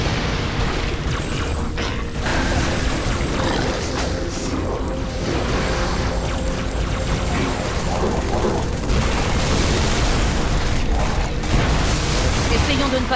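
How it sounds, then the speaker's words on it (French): Explosions and gunfire ring out during combat in the video game Halo 3, dense and loud throughout, with booms and mechanical clatter layered over continuous game noise. "Là, je suis obligé de sauter pour esquiver les explosions."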